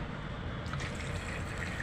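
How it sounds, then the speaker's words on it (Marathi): Water poured into a pressure cooker pot holding white peas and salt, a steady close filling and trickling wash that runs evenly throughout with no voices. "पाणी घाला"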